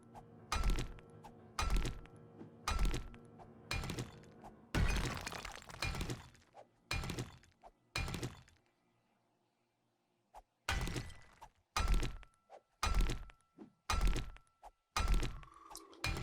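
Blocks are mined in the survival game 7 Days To Die, each strike a sharp, crunchy thunk with a breaking edge. The hits come in a steady rhythm, pause briefly about midway, then carry on at the same pace.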